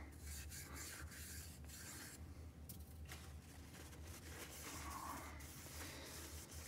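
A plastic enclosure surface is roughened by hand, with quiet, continuous scratchy rubbing strokes close by and nothing else in the background.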